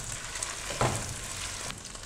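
Beef frying with a steady hiss and crackle in a karahi during bhuna, alone with no talk and a brief louder spatter partway through.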